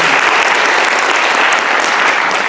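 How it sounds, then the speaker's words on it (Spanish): Audience applause for a birthday, a dense, steady burst of many hands clapping that fills the whole stretch at loud level with no talking over it. "así que un aplauso para Martu."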